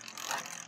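A Beyblade launcher is ripped to send the Valtryk top spinning, a quick close ratcheting whir that swells and fades within a second, with no voices.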